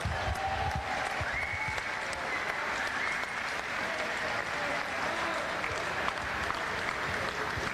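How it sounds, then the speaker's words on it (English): A crowd at the 2018 Spalding Waratah League grand final applauds the Sutherland Sharks runners-up in a steady, dense wash of clapping, with a faint voice underneath. "big round of applause for your 2018 runners-up"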